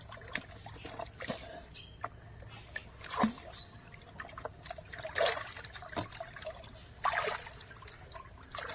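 Fishing net lowered into pond water, making soft splashes and trickling drips at intervals, faint and outdoors, with quiet background murmur.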